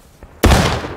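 A single loud, close musket shot from a Civil War battle game bursts out with a heavy boom that rolls on and slowly fades, preceded by a faint softer thud.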